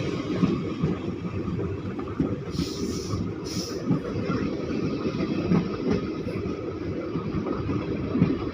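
A Malda Town to Balurghat passenger special train rolls along with a continuous moderate rumble and light rhythmic clatter, and a brief higher squeal partway through.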